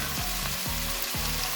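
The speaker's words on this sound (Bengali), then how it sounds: "ভালো করে নাড়াচাড়া করে আমি মাংসটাকে ভালো করে কষিয়ে নেব।" Chicken meat for a chicken tadka sizzles in a hot pan with a steady frying hiss, broken by three evenly spaced scraping stirs, close up and without speech.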